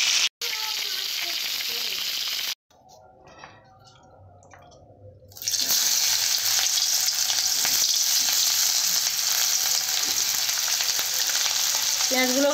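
Rohu fish pieces fry in a pan of oil, giving a loud, hissing sizzle that drops away briefly to a quieter bubbling, then surges back strong and steady, close up with no talk.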